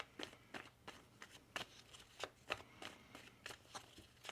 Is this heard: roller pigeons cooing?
no